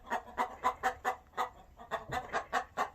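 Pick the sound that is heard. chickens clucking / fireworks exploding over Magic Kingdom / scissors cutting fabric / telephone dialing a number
chickens clucking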